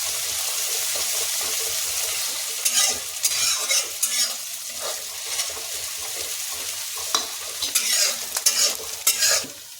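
Ginger and garlic fry in hot oil for dum aloo, with a steady close sizzle broken by repeated scraping bursts of stirring in the pan.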